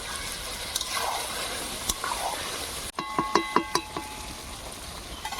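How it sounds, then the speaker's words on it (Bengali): Duck meat sizzling and frying in a pan, steady crackle, then a sharp clink as the lid lifts and a burst of metallic scraping and clattering as the meat is stirred, close and moderately loud. "এবার আমি ঢাকনিটা তুলে একটু নেড়ে নেব।"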